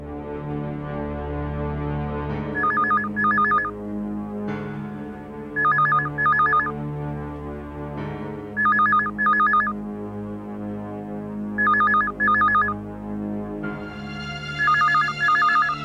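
A telephone rings on an outgoing call, a regular ring-back tone in five evenly spaced double bursts over a low background hum, with no talking.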